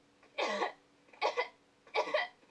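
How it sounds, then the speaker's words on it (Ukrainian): A child coughs three times in separate short bursts, close by, with quiet pauses between each cough. "Прийшла зі школи, почала кашляти."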